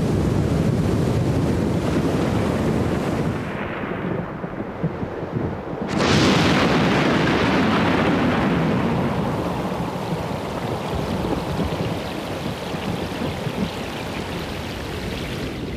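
Storm-driven ocean waves churn and crash under steady, roaring wind buffeting the microphone, a continuous loud wash of surf with a brief lull around the middle before the rush surges back.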